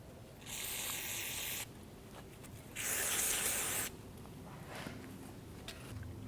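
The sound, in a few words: spraying cleaner onto Chevrolet S-10 rear drum brake parts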